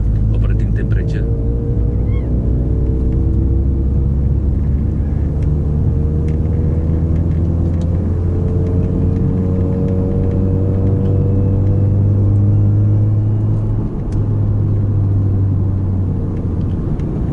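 A Mazda RX-8 rotary engine idles while warming its oil to operating temperature, a loud, steady low rumble with faint whirring overtones, running continuously with a brief dip near the end.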